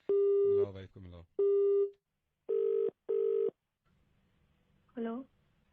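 Phone line tones sound while a call to a wife's number is placed: a few long steady beeps separated by pauses, each fairly loud and clear, then a brief voice near the end.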